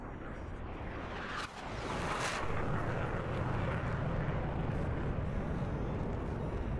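An F-14 fighter jet in a video game roars past as a broad, steady jet rumble that swells louder after the first moment and holds strong to the end.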